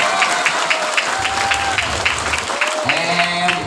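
Crowd at an Isra Mi'raj sermon gathering clapping together, a sustained wash of hand claps running throughout, with a speaker's voice and some sustained tones layered over the applause.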